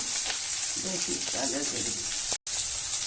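Cinnamon, chili and onion frying in hot oil, a steady bright sizzle with soft stirring scrapes, close and continuous apart from a brief break near the end.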